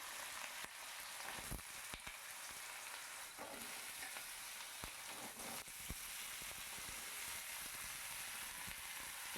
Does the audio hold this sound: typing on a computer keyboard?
no